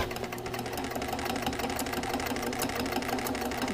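A sewing machine doing slow free-motion quilting on an extension table, a continuous even mechanical whir with a fine rapid needle rhythm, close and steady throughout.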